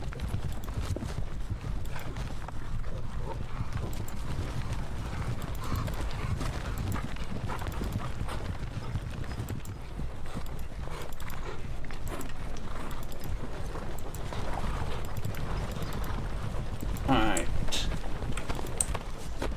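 Cavalry hooves in a Napoleonic strategy game of the Battle of Bautzen: steady clip-clop of many horses moving, with an occasional whinny, under continuous background sound and talk.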